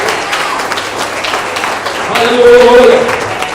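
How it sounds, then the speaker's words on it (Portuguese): A church congregation claps during a sermon, a brief burst of applause that swells near the end and mixes with a voice speaking over it. "Você pode glorificar ao Senhor dando uma salva de palmas bem forte,"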